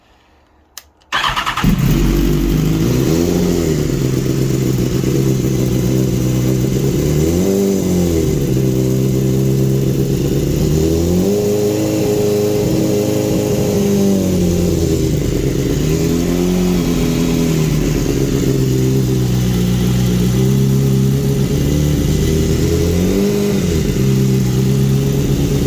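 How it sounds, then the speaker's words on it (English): A BMW S1000RR sportbike engine, freshly swapped, cranks briefly and fires up, then holds a loud, steady fast idle with gentle rises and dips in revs for over twenty seconds, with no talking. "Start it up first time, the engine, and then okay, bring the RPMs up to a fast idle too."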